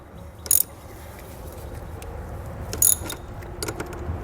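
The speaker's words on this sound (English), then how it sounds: "we'll come back with a 1/2" socket and wrench. We'll crank this down." Half-inch socket wrench cranking down a nut during a battery disconnect installation on a 2022 Chevrolet, heard as short metallic ratcheting bursts separated by a steady low background rumble.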